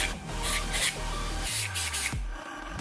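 Several short hissing bursts from a can of dry salt hair spray, close and loud, with a rustle in between.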